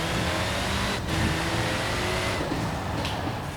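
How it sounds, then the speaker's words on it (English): An Alfa car engine in a racing game hums and revs at a steady mid pitch, with brief dips as gears shift, loud and continuous with no talk. "My Alfa does sound lovely."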